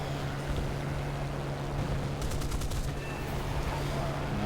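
Aircraft guns fire in War Thunder during an air battle: a quick rattling burst of rapid shots in the middle, over a steady background engine drone.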